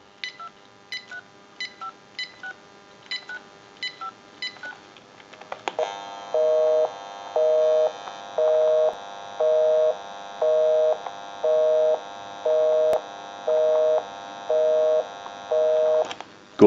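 A General Electric 27909 cordless telephone: a quick series of keypad tones, then a steady pulsing busy signal beeping at a regular rhythm, loud and clear.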